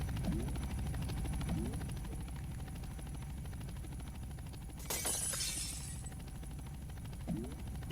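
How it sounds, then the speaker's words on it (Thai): Helicopter in a Roblox video game, a steady low rotor drone running throughout at moderate level, with a brief crash-like burst partway through and no talking. "มีเฮลิคอปเตอร์ด้วย"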